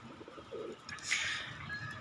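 Domestic pigeons, some of them sick and lethargic, give a soft, low cooing that stays faint and distant against quiet background noise.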